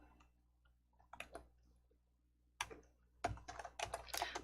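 Keys clatter on a computer keyboard as a file name is typed, with a short burst of taps, a pause, then a denser run of quick, close keystrokes.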